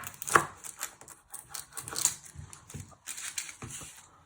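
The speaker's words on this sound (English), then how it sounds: "You first chop off both of your ends." Knife chopping the ends off an onion on a cutting board, heard as a few separate close, sharp thuds and crunches spaced out over several seconds with no talking.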